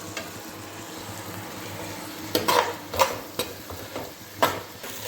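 Onions and tomatoes sautéing in a pan for a traditional fish curry, giving a soft steady sizzle with several louder stirring scrapes and clinks near the end.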